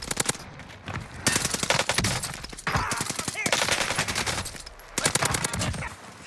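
The Marco assault rifle in a video game fires in rapid, loud bursts of sharp, closely spaced shots. Brief gaps separate the volleys, and it keeps firing throughout.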